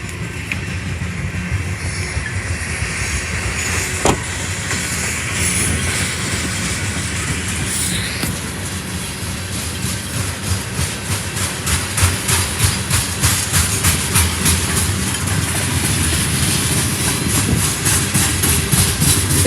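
BNSF locomotive 2842 leads a southbound local freight train through Stanwood, Washington, with a loud, steady diesel rumble and the rhythmic clatter of rail cars building toward the end, heard from trackside.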